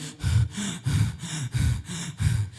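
A preacher in a church sermon imitates breathless gasping with his voice, about six heavy, rhythmic gasps close to the microphone, each a sharp intake and release of breath.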